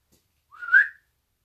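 A single short whistled note from a person, rising then falling, clear and close against near silence inside an old fire station.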